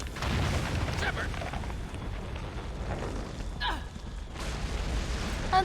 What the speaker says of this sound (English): What was that noise, Shepard? Sounded bad. Cave in.